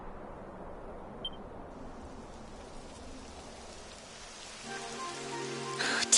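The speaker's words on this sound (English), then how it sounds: "It would have to go and start raining, wouldn't it?" Rain falling in the Dragon Quest XI video game, a soft continuous patter that thickens partway through, with a brighter, louder layer of game sound rising near the end.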